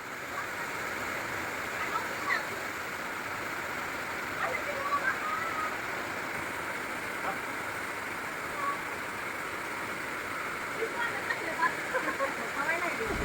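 Heavy monsoon rain pours down outdoors near an open-air wood-fired clay stove set up for frying chicken, a steady dense hiss that holds evenly throughout at moderate volume.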